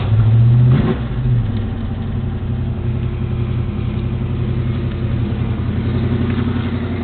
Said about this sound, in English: The motor runs really good.